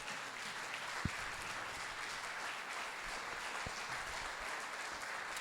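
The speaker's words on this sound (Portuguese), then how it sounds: "Aplauda o Senhor por isso." Steady, moderately loud clapping from a church congregation fills the whole stretch, with a couple of sharp low thumps standing out.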